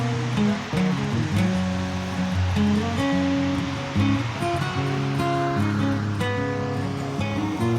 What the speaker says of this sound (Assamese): আচাল পিছফালে অলপনন্দা নদী, কি ধুনীয়া বৈ আছে